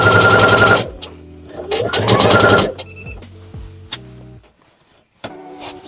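A sewing machine starts on a homemade box-bottom tote bag with a loud whirring run, then a short second burst, followed by lighter mechanical clicks and knocks as it slows and stops.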